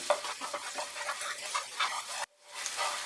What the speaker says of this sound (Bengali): মিডিয়াম আঁচে আমি আদা রসুন কুচিটাকে ফ্রাই করে নেব 1 মিনিট